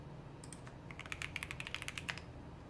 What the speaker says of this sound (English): Let me type it for you.